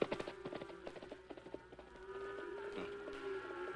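Horse hooves clip-clop steadily at a walk on a cattle trail in the Old West, close and moderately loud, with a low steady tone running underneath.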